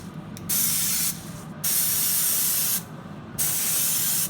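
An aerosol can of clear coat mists a sculpture in three long hissing bursts with short pauses between them, close and fairly soft, with no talking.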